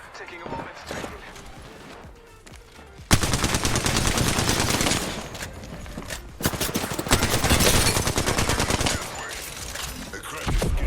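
Rapid automatic gunfire in the battle royale game Apex Legends: sustained loud bursts of dense shots that stop and start, with a voice heard at times.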